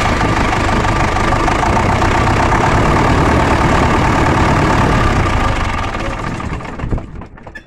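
A D245 diesel engine runs steadily at about 1000 rpm with a loud, rough, knocking drone, then is shut off and clatters down to near silence over the last couple of seconds.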